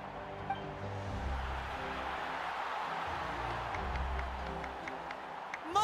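Soft, steady applause from a crowd in the video game Genshin Impact, fairly faint, with a low musical hum running underneath.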